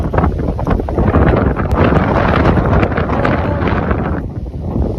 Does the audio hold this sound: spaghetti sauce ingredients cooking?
no